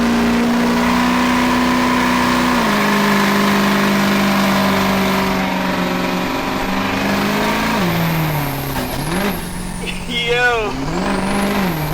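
A Ford Ranger work truck swapped with a 6.0 Powerstroke diesel engine built to around 1000 hp accelerates hard, a loud droning engine note rising and shifting through gears before a sharp sweep near the end.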